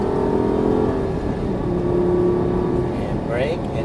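A Lamborghini Gallardo LP550 accelerates with a continuous engine whir and rising tone, heard from inside the car, with an instructor's voice speaking over it.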